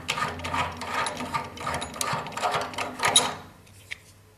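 Thermostatic radiator valve head being unscrewed from the valve, giving a run of close, rapid ratcheting clicks and plastic-on-metal rattles that stop near the end, followed by a single faint click.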